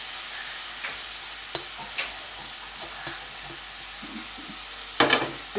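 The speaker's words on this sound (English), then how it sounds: "Now the onions go in." Onions frying in a pan with ginger-garlic paste for egg akuri, a soft steady sizzle with scattered clicks of stirring and a sharper burst of spatter near the end, no talking.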